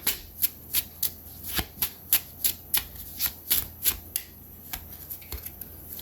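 A deck of cards is riffled and shuffled up close in a quiet room. About a dozen crisp, rhythmic bursts of flicking and rippling follow one another evenly, with no talking.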